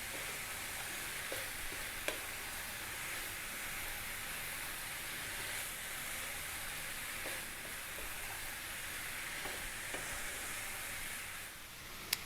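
Two cups of cooked lentils frying and being stirred in a pan: a quiet, continuous sizzle and hiss with occasional faint clicks from stirring, steady throughout.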